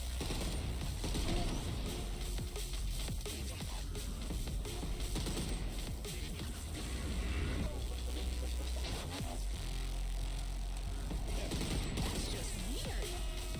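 Video game gunfire from a freedom gun: dense, continuous mechanical clatter and rapid bursts fill the stretch at a steady loud level, with game noise layered throughout.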